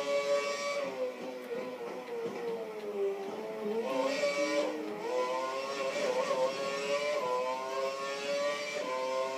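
An F1 video game race car warms its tyres, its engine droning and wavering in pitch as it revs up and down steadily throughout, fairly faint and with no talk.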